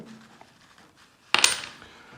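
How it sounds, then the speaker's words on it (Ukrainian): Circulation coins in a small parcel being handled: a quiet rustle, then one sudden bright metallic clink and jingle that fades over a moment, close up. "Це посилочка з обіходними монетами."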